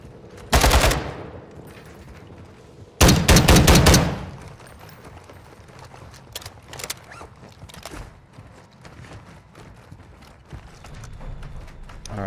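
Two loud, close bursts of automatic machine gun fire in a shooter video game, a short one followed by a longer rattling volley, then quieter scattered footsteps and distant shots.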